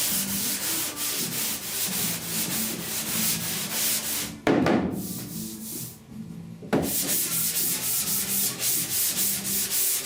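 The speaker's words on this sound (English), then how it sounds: "So I think I'm going to block sand it 3 times in total." Block sanding primer-surfacer on the rusty roof of a 1969 C10 pickup, a steady rhythmic back-and-forth abrasive rub that carries on throughout, close and fairly loud, with a brief pause partway.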